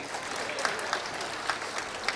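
An audience at a Tamil comedy speech claps steadily, a dense patter of many hands with a few sharper individual claps standing out.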